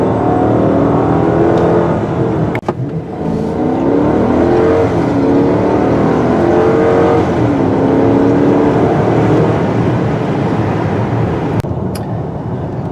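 A 2016 Chrysler 300S with its Hemi engine pulls hard and loud from close by, a sustained throaty roar whose pitch climbs through the gears, with short breaks at the shifts.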